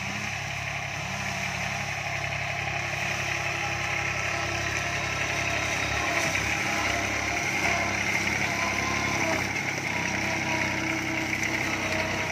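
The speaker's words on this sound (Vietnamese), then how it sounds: "chiếc máy cày đó là giờ đang chạy vô kéo nữa đó các bạn ơi" A tractor pulling an old, large tree drones with a steady, loud engine note that holds without pause throughout, with occasional low thumps underneath.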